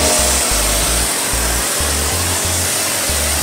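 A pressure washer sprays soapy foam onto a car, a loud steady rushing hiss with a low pulsing motor hum that surges and drops in a regular rhythm, no talking.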